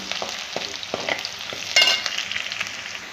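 Green chillies fry in hot oil for oats upma as a spoon stirs them around the pan, giving a close sizzle with light scraping and a brief louder burst midway.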